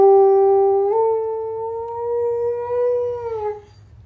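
A single dog howls in a long, sustained, wavering tone that rises slightly partway through before trailing off, loud and close.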